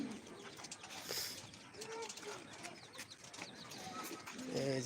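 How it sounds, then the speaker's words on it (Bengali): Domestic pigeons coo softly in a rooftop loft at feeding time, low, soft calls mixed with faint fluttering and mechanical creaks in a quiet setting. "কবুতরগুলা"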